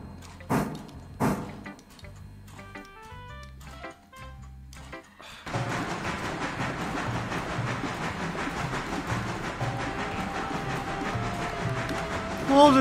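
Locomotive in the video game Railroader, first sparse clanks and knocks, then a steady rumbling, hissing roll of the moving train that builds and ends in a brief louder screech.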